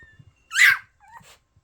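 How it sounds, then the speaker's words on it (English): A young puppy lets out one short, high bark with a whimpering edge, followed by a fainter whine; the rest is near silence with small scuffing sounds. "Stop barking."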